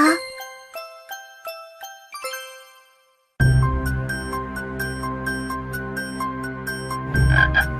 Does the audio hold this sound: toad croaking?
yes